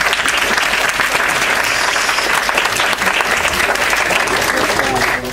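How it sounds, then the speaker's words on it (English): Sustained, dense audience applause for Professor Abhishek Kathuria at a technology panel event, steady and loud throughout with a few faint voices mixed into the crowd noise. "Huge round of applause for him as well, please."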